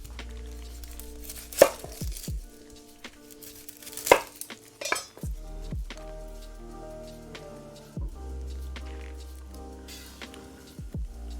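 A knife chops through a large onion on a kitchen board, giving a handful of sharp, separate knocks spaced a few seconds apart against a quiet room.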